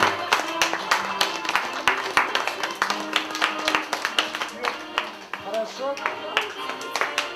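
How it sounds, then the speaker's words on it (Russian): Wedding guests clap in an uneven, scattered patter of sharp individual hand claps, fairly close, with voices talking underneath. "Аплодисменты, дорогие."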